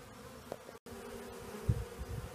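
A large honeybee swarm hums steadily while being captured, a continuous low drone close by with a short break and a few louder passes, no one speaking.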